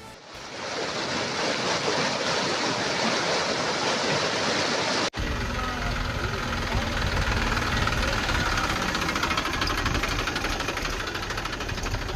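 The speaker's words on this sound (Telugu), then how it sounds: "సైదాపురం మండలంలో పిన్నేరు వాగు క్యాజ్వేపై వరద ప్రవహిస్తుంది" Floodwater pours over the Pinneru stream causeway during a cyclone, a loud continuous roaring rush that fills the whole span without a break.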